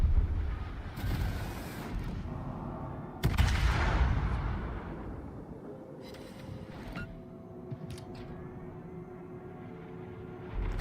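Naval guns firing in World of Warships: a sharp, loud broadside blast rumbles out into a long low roar, with smaller distant shots and thumps scattered through a steady engine and water bed.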